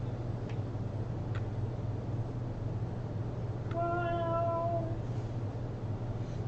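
Cat meowing once in a long, clear, drawn-out cry at an indoor auction gallery, heard over a steady low hum with a couple of faint ticks earlier.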